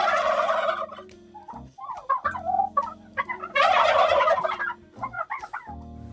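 Bourbon Red turkeys on a farm gobble in loud, close, rippling bursts, several birds overlapping in repeated calls with brief pauses between them.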